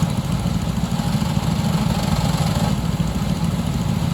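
Oliver 1650 gas tractor with a narrow front end running at a classic tractor show, a steady low chugging engine drone, loud and close throughout with no talk.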